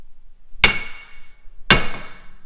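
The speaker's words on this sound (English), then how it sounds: "So I just like to give her a nice bash." Two sharp, ringing metallic hammer blows strike a truck axle during a limited-slip differential install on a Chevrolet Avalanche, spaced about a second apart, each with a brief bright decay, close and loud.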